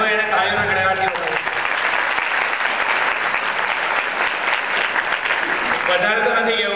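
A college audience breaks into loud, sustained applause, steady clapping filling most of the stretch, with a voice speaking at the start and again as the clapping fades.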